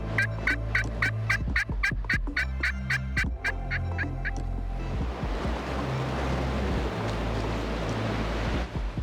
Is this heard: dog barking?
no